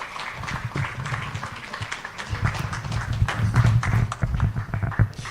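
Scattered applause from a conference audience for panel speakers at a media forum in Ghana, uneven and moderately loud, building slightly with individual claps standing out.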